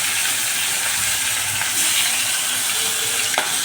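Hilsa fish head and bones fry in hot mustard oil with whole cumin and bay leaf in a wok, giving a loud, continuous close sizzle and hiss with a faint clink near the end.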